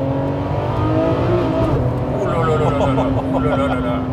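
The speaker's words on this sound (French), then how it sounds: "Comme d'hab avec les V12 Ferrari." A Ferrari 599 SA Aperta's V12 engine revs and pulls from inside the cabin, a loud, rich drone climbing in pitch toward a rising howl, with people talking over it.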